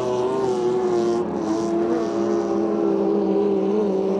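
A modified hydroplane powerboat roars past during a national powerboat championship heat, its engine a loud, sustained drone close by, with a faint doppler shift as it passes and no talking.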